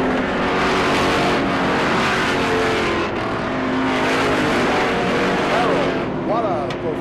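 Race cars howl around the track under hard acceleration, a loud, continuous engine roar with cars surging past and rising pitch sweeps near the end, while an announcer commentates over the noise.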